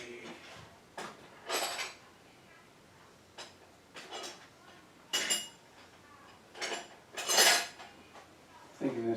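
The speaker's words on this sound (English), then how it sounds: "Grab a socket and a wrench." Metal tools clink and rattle as a socket and wrench are pulled from a toolbox while working on a 1982 Fiat 2000 fuel-injected engine hose, several separate clattering bursts close by with pauses between.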